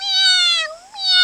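A person imitates a cat's meow in a single drawn-out, tonal mew with a brief dip and a rising end, close and fairly loud with no other sound.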